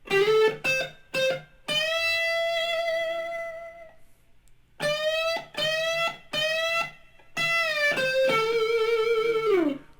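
Electric guitar playing a blues lick, heard alone: short picked notes followed by sustained bends and held tones, with a pause in the middle and a final bent note.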